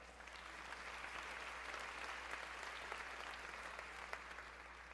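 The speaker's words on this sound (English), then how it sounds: "Big round of applause for that." Sustained applause from a conference audience at a National Council of La Raza event, a steady dense wash of clapping at moderate level that holds evenly throughout with no talk.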